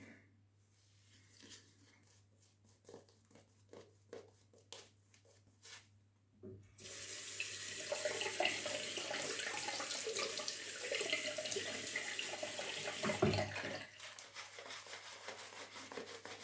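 At a dog grooming station, quiet scattered handling and rubbing sounds give way to a tap running hard, a steady loud rush of water that briefly falters and then carries on.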